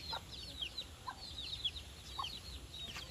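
Chickens cluck softly in short bursts, with chirpy bird calls scattered over a steady outdoor background.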